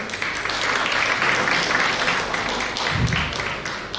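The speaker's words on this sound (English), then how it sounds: "you should also give big applause for your parents and great clap" Crowd applause at a business school graduation ceremony, a dense, steady wash of clapping lasting the whole stretch, fairly loud and even with a brief swell near the end.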